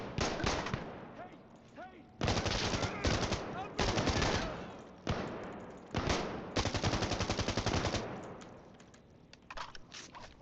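Bursts of automatic gunfire in Insurgency Sandstorm, a counter-terrorist loadout firefight, with loud sustained volleys broken by short pauses, then thinning to scattered distant shots toward the end.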